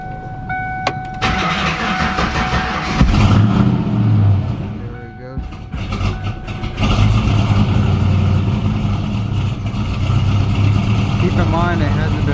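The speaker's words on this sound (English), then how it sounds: "So let's just start the car up." A Ford Mustang with an oil leak is cold-started after sitting for days, cranking with a rough catch before the engine fires into a steady, close idle, while a person talks over it.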